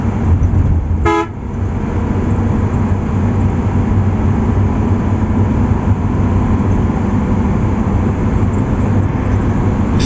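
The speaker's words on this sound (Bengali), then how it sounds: "স্ক্রিনে আপনারা দেখছেন মিৎসুবিশি ফুসো বাসের স্পিড ক্রুজিং এবং ইঞ্জিন সাউন্ড" Steady, loud drone of a Mitsubishi Fuso air-conditioned bus engine cruising at speed on the road, with one short horn blast near the start and no talking.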